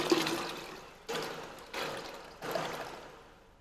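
Red sharbat is poured into milk in several short bursts, each splash starting sharply and trailing off, close by with no talking.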